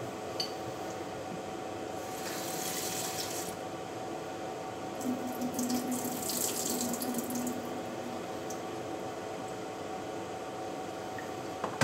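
Vegetables are rinsed under a running kitchen tap, a steady faint stream of water splashing into a sink with soft squishing and occasional louder spatters as the produce is handled, no talking.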